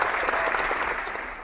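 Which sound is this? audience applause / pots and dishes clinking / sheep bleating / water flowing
audience applause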